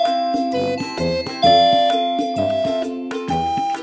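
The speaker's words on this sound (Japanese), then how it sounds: "さあ、ピンポン鳴らそうっと。" A chiming doorbell plays a bright melodic ding-dong tune, several clear tones in sequence, close and loud with no talking.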